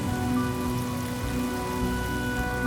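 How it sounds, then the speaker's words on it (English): Steady rain falling in the video game Honkai Star Rail, a continuous even hiss of drops on surfaces with a faint tonal hum underneath, no voices. "The rain will accompany you, and the rain will bless you."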